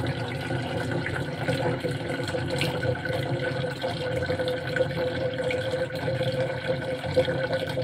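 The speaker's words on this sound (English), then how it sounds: "There is only cold water that comes through this tap." Cold water runs steadily from a tap as a continuous, even rush with faint splashing, close by and without talk.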